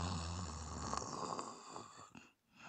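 A talking sword in the video game Sakuna: Of Rice and Ruin snores softly with a droning, rasping breath that fades out near the end, quiet and close.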